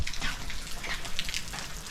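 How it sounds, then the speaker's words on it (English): Steady rain patters and splashes throughout in Salavan, Laos, a dense, even hiss of falling water with small drops hitting nearby surfaces. "Look, it's raining right now."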